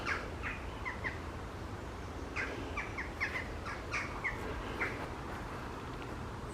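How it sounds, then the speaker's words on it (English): Birds call repeatedly in short bright bursts at a nature reserve beside a pond, scattered moderately near over a steady low outdoor hiss. "Now we start to hear the birds."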